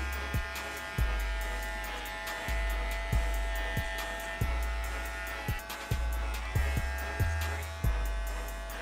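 A DINGLING electric hair clipper buzzes steadily close up while fading hair, its hum pulsing in repeated strokes roughly every half second to second as the blades move through the hair, with no talking.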